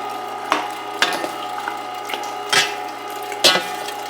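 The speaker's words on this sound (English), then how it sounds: "This is a 1 horsepower pump, so it grinds this up quick." A 1-horsepower electric meat grinder works through meat with a steady motor hum, spinning the bowl, broken by about five sharp clunks and squishy bursts at uneven intervals, close and fairly loud.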